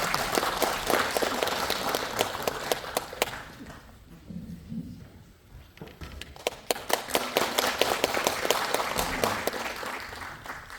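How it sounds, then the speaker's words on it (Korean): Encouraging applause at an indoor launch ceremony in an art hall, with crisp, distinct claps from a modest crowd that dip briefly in the middle and then swell again as someone takes the podium. "나오실 때 격려의 박수 올려주시기 바랍니다."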